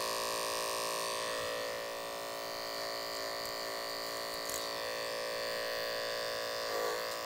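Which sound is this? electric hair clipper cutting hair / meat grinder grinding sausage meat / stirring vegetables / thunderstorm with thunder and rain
electric hair clipper cutting hair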